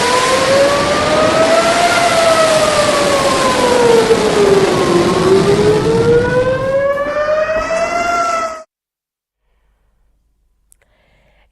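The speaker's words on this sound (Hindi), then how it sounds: "ईरान की तरफ से मिसाइलों की बौछार के बाद इजराइल में सायरन बजने लगे" A wailing air raid siren sounds in Israel after an Iranian missile barrage, its pitch rising and falling in a slow sweep, loud and continuous for about eight seconds before cutting off into near silence.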